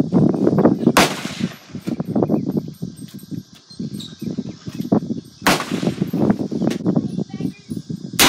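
Two sharp, loud .357 Magnum revolver shots ring out roughly four and a half seconds apart at an outdoor shooting range, with people talking nearby before and between the reports.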